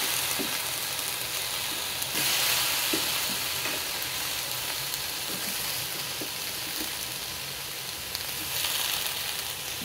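Tomatoes fry in a dry pan with no oil for a fruit chutney, giving a steady close sizzle over the whole stretch, with occasional soft stirring scrapes and no voices.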